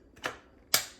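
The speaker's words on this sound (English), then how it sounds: "You turn it and it will latch on." The bottom piece of a Navage sinus rinse device is twisted until it latches, giving two sharp, close plastic clicks about half a second apart in an otherwise quiet space.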